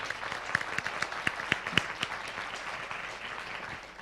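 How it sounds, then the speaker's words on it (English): An audience at the MenCare Global Meeting 2017 gives a final round of applause for three panelists, a moderate spread of clapping with a few sharper claps standing out, tapering slightly toward the end. "Can we give them one final round of applause"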